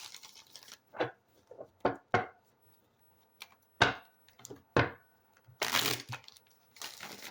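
Deck of cards shuffled during a tarot reading, a series of short papery riffles and snaps in irregular bursts, then a longer rustling shuffle toward the end, close and fairly quiet.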